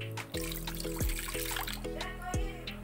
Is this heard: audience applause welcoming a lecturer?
no